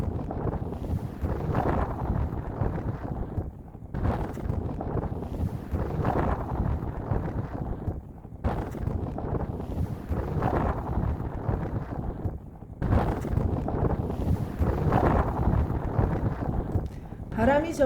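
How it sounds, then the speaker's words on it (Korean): Strong wind on a Patagonia mountain trail on the W Trek buffets the microphone in heavy, surging gusts with brief lulls, while a person talks throughout. "바람이 점점 세지고 있어요"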